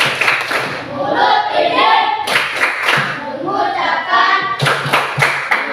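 A class doing a rhythmic thank-you clap, bursts of sharp, patterned group clapping alternating with children chanting along, close and lively in a classroom.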